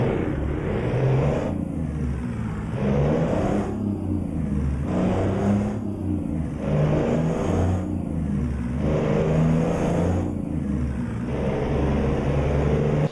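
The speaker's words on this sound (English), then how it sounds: "Man, this engine sounds good." A custom Rezbilt Peterbilt truck engine in American Truck Simulator revs loudly and steadily, its deep rumbling drone rising and falling in regular surges about every two seconds, with no voices.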